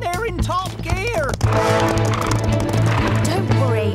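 Cartoon horses in a Bob the Builder episode gallop in a steady clip-clop rhythm, loud and close, with a neigh and busy music underneath, and a voice speaks over the opening.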